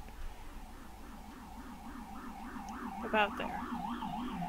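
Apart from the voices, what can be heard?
sirens in a video game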